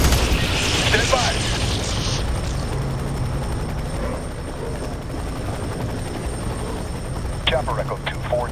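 A helicopter in the video game F.E.A.R. 3 roars steadily and close with a thick rotor rumble, while voices talk over radio chatter and distant bangs and gunfire break through near the end.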